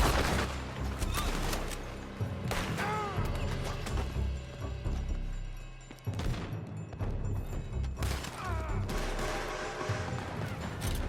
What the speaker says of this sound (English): They're shooting from that building!